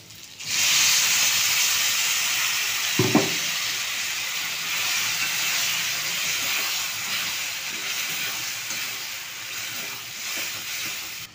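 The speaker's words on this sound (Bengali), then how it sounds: "আলুগুলো আমার ভাজা ভাজা হয়ে গেছে, এর মধ্যেই আমি মশলাগুলো সব অ্যাড করে দেব" Spices hitting hot oil with frying potatoes, the pan breaking into a broad, steady sizzle that carries on throughout, with a brief clatter near the start.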